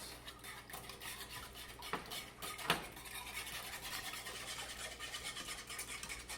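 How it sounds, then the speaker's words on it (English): Lemon curd being whisked by hand over medium heat while butter is added a bit at a time, giving a steady, close scratchy scraping of the whisk against the pan with a couple of sharper clinks. "I'm just going to keep on whisking and adding that butter."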